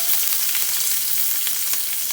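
Chopped onion with curry leaves frying in a pan for mixed vegetable sambar, a steady, close, bright sizzle with faint crackles throughout and no talking.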